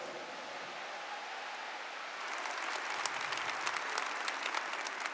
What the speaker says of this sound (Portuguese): Pode aplaudir quem está recebendo isso aí.